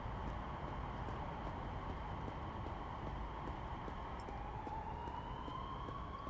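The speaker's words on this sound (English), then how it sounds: "Sirens going off, loads of people in trouble." Wailing emergency vehicle sirens in the video game Big Ambitions, a steady distant rising and falling tone running throughout over a dense background hum of city ambience.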